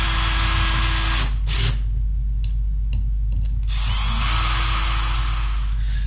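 A power drill whirs close and loud as a screw is driven in during assembly of a PCP scuba tank holder, with two bursts of high motor whine separated by a short pause.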